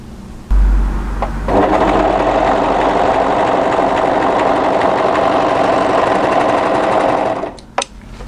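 An overlocker stitches a seam along the fabric edge of a cardigan, giving a steady loud mechanical whirring hum for several seconds after a brief start, close up, ending with a small click.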